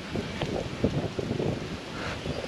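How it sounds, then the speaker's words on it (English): Strong gusty wind buffets the microphone outdoors in Varkala, Kerala, ahead of an approaching storm, a rough, uneven rumble with irregular gusts throughout. "The wind is like coming in, it's really, really fast actually."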